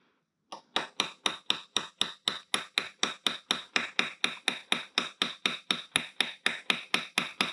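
A motorcycle steering stem nut is tapped around with a hammer and punch, giving a fast, even series of about two dozen sharp metallic taps, close and crisp, with no talking.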